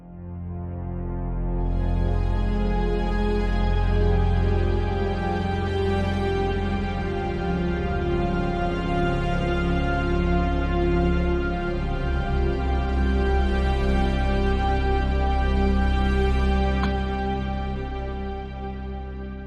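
A sustained ambient pad built from a sample run through heavy reverb, a dense wash of steady tones that swells in after a couple of seconds, holds evenly loud throughout and fades gently at the end, with no voices.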